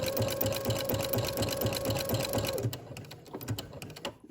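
A sewing machine stitches a pocket onto a maxi dress, a fast steady hum with rhythmic needle thumps that stops partway, leaving a few faint clicks and handling noises.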